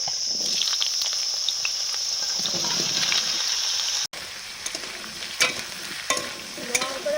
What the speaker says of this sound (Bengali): পাপনি শাক রান্না করার জন্য প্রথমে বেগুনটা ভেজে নিচ্ছি